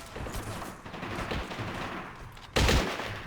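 Gunfire from the video game Men of War: Assault Squad 2 in a battle among heavy foliage: dense rattling bursts of rifle and machine-gun fire throughout, with a loud close volley near the end.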